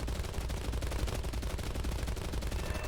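Defensive gunner machine guns on a Ju-88 A-4 bomber in War Thunder fire in one dense, continuous burst, loud and close, with rapid overlapping shots and no pauses.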